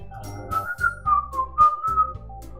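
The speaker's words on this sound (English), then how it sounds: "Whistle." A person whistling a short melody, clear and close, with a few rising and falling notes over a low rhythmic backing.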